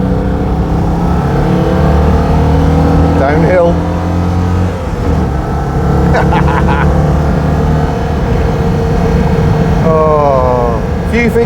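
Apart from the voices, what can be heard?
Citroen 2CV driving loudly on lanes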